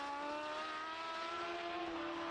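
A sidecar racing outfit's engine roars steadily at high revs through a gear change during a road race at Bishopscourt, loud and continuous with no pause.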